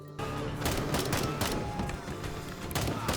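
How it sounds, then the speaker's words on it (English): Tactical shooter gunfire: a volley of sharp shots in quick bursts, several distinct cracks spread across the moment with some thumping, fairly quiet overall and without talk. "The gun sounds are good"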